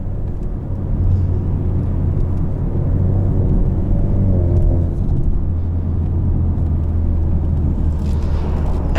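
A 2020 Ford Mustang EcoBoost convertible with performance exhaust set to sport mode hums as a steady, deep low rumble from inside the car, holding an even drone with no talking.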